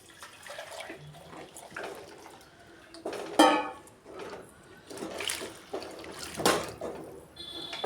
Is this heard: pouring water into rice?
yes